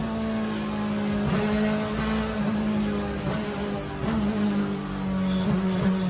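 A BMW E46 M3 GT2 race car's P65 V8 of about 500 horsepower revs hard toward a 9,500 RPM redline, a loud, continuous high-pitched engine wail with a few rising and falling pulls.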